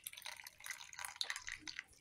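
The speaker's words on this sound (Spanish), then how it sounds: "Exprimimos bien para que bote toda el agua que sea necesaria, el excedente" Water drips and trickles from squeezed, soaked soy meat as a quick, close patter of small irregular drops, faint and heard alone.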